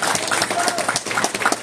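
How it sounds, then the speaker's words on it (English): An audience at a boxing press conference for Xander Zayas vs Patrick Teixeira breaks into a dense, steady round of clapping, heard fairly close and without talk. "I think that deserves a round of applause"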